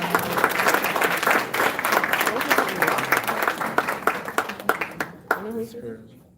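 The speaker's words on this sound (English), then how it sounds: "Give her another round of applause." Audience applause at a ceremony honoring outstanding Jamaican guidance counselors, steady dense clapping that thins into scattered claps and fades near the end, with a voice starting to speak over the tail.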